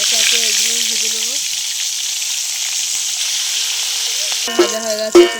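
Hot oil in a wok sizzles steadily as pieces fry, a strong continuous hiss, with a brief voice early on and a couple of short sharp tonal sounds near the end.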